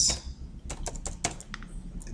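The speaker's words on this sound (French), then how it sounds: "Je vais utiliser touche tab sur clavier" Quick keystrokes on a computer keyboard, a short run of close, crisp clicks in an irregular rhythm, heard alone without talking.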